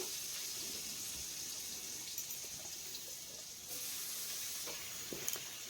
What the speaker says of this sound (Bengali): এখন এই আলুটাকে 2 মিনিট এইভাবে ভেজে নেব।